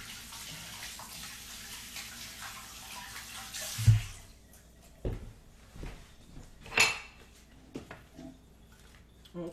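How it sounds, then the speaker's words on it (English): Tap water runs steadily into a sink while hands are rinsed during fish head soup preparation, with a few louder splashes and clatters partway through and no talking. "I need to rinse my hands, they're getting too slippery."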